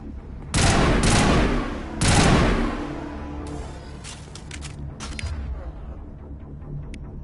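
Gunfire in the Mass Effect video game comes as two loud, dense bursts of shots close together, followed by quieter scattered cracks and rattles that fade out.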